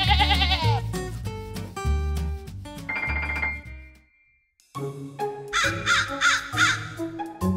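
A crow caws in a series of harsh calls over busy animated-style music, with a brief pause midway before the sounds resume.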